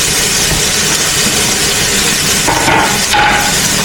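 Onion dropped into hot cooking oil sizzles with a loud, steady broadband hiss that runs unbroken from start to finish, close up, with no talking.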